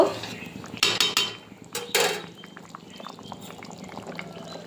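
A pot of chicken curry is handled at the stove: a few sharp metallic clanks and scrapes of pot and utensils, then quieter soft clinks and liquid movement.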